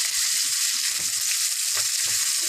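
Onion and green chili fry in a pan for Kerala fish curry, giving a steady bright sizzle with soft stirring scrapes and bumps underneath.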